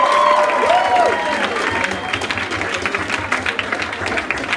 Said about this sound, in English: Now please give a round of applause for our very own chaplain